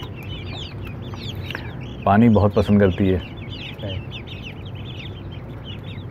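Desi chickens clucking on a rooftop poultry farm, scattered soft clucks and bird calls throughout, with a brief close burst of louder voices in the middle where people talk.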